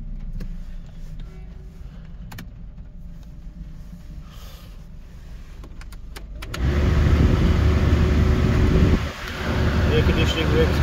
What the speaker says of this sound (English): Engine sounds very smooth,